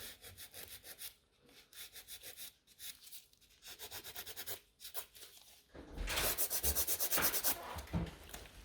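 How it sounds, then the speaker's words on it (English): A nail file drawn along the side walls of natural nails, a steady run of close rasping strokes that grows louder and quicker near the end, with no speech. "when you're filing the side walls, make sure they are nice and straight as well."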